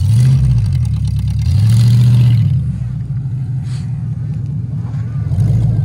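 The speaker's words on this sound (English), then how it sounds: "This is a drifting truck." A drifting truck's engine revs in two loud surges, then settles into a rougher running note with more throttle blips, while people talk in the background.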